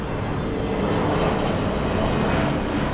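A steady, broad engine roar of an airplane passing overhead, continuous and fairly loud throughout with no voices.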